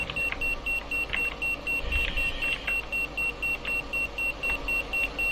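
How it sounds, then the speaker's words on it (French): A smoke detector's high-pitched electronic beep repeats steadily and rapidly, sounding over and over against faint background noise without pausing. "Ça le détecteur de fumée là."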